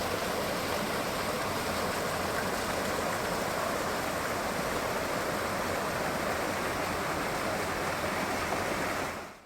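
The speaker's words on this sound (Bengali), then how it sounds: "ঝর্ণার আওয়াজ পাচ্ছি ভাই" A monsoon waterfall near Takdah in the Darjeeling hills roars as a dense, unbroken rush of water, loud and steady throughout before cutting off abruptly at the end.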